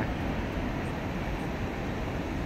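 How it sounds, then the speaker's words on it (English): A passing train rumbles as a steady, broad roar throughout, moderately loud and without distinct clacks or horn, with no voices over it. "Look at that train."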